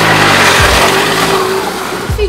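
Car engine revving loudly and close, a strong sustained roar with pitch sweeps as the throttle opens, easing slightly toward the end.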